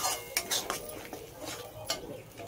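Spoon scraping and clinking against a pan while ground tomato masala is stirred for an egg curry, a run of short sharp metallic clinks and scrapes, fairly close and moderately loud, with no talking.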